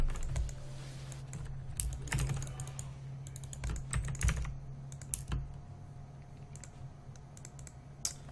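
Soft, steady typing on a computer keyboard, with rapid irregular clicks and a few louder keystrokes over a low background hum.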